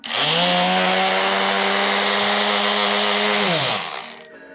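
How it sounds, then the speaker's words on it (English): A loud power sander motor whines steadily on wood for nearly four seconds, then winds down and stops. "Maybe the sander works better now."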